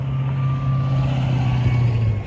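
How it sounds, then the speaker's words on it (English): Heavy truck idling loudly with a steady low engine drone on a street, and a faint continuous tone overhead that may be its reversing alarm, no voices. "Sorry about the traffic noise if you hear it."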